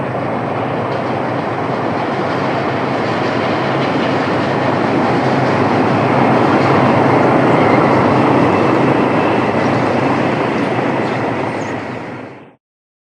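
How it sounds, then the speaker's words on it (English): ALCo C-420 diesel locomotives haul a special train through Canoe Place at Hampton Bays, making a loud, continuous rumble and roar of engines and rolling wheels for about twelve seconds before cutting off. "The C-420s lead the happy fans through Canoe Place at Hampton Bays"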